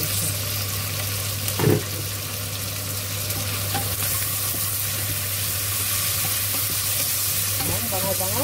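Onions and tomatoes sautéing in a pan for ginisang monggo, a continuous steady sizzle with occasional stirring scrapes and a brief clank, close and alone without talk.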